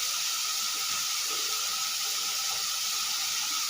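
Tomatoes softening in a hot pan give a steady, even sizzle and hiss, constant and moderately close with no talk.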